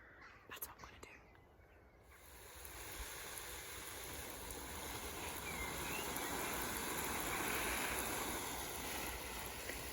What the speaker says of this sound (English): I hope you can hear me over the watering.